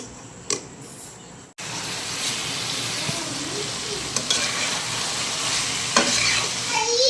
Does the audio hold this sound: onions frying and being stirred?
yes